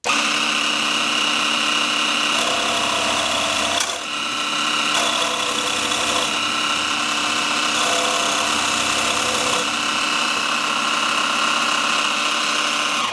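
A Dremel MS20 Moto Saw at its first speed cuts a roughly 2 mm thick workpiece with a continuous, close, rasping buzz that holds steady throughout, dipping briefly once partway through, with no voices.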